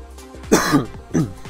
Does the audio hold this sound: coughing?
yes